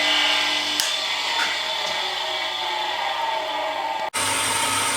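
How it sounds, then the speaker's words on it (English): A tool and cutter grinder runs steadily, grinding a cutter with a continuous high whine and hiss, brief contact scrapes near the start and a sharp cut-off just before the end. "So now I'm mounted up in the Tooling Cutter grinder."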